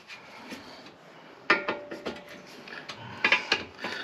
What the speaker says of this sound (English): So you want to keep tension on the screwdriver and smack it at the same time, and it should crack like that